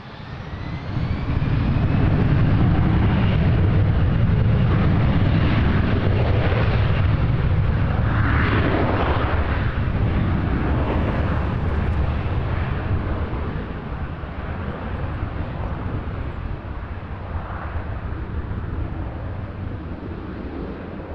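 A heavy jet airliner takes off at Toronto Pearson Airport, its engines a loud sustained roar heard from a distance that builds quickly, holds, then slowly fades as it climbs away, with no talk over it.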